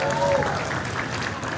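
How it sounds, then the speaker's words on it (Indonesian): Audience applause at an Indonesian political party commemoration, honoring party chair Megawati Soekarnoputri: a steady, dense wash of clapping with a few speech-like tones at the start. "Kita berikan tepuk tangan yang meriah buat beliau."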